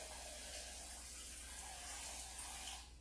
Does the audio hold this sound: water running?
yes